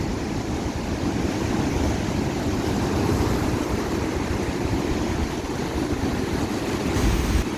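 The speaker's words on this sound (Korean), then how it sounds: "파도가 너무 예쁘게 치고 있어요." Ocean waves breaking steadily at Guryongpo harbor on a rainy, foggy day, a continuous loud roar of surf close by with no voices.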